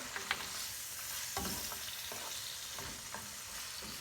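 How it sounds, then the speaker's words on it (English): Cherry tomatoes sizzling in hot oil in a pan while being stirred, a soft continuous fry hiss broken by a few scraping utensil knocks, fairly quiet and close with no talking. "we're gonna give that a bit of a stir"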